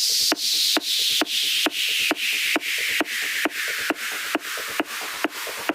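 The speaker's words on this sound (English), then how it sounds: "Let me put the white noise down." Broadband white-noise synth bursts retriggered about every half second, each swelling bright then dipping, with a gradually falling filter sweep and a faint rhythmic bass pulse beneath.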